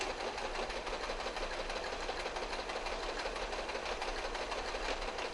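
A home sewing machine stitches fabric in a straight seam, producing a continuous, even mechanical whir with a fast rhythmic needle chatter that holds steady and loud throughout, with no talking.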